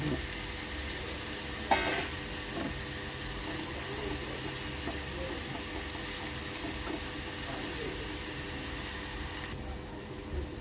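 Water is poured into a hot pan of field beans cooking with potato. A continuous hissing sizzle rises with a short burst near the start, then settles into a steady bubbling wash before it fades at the end.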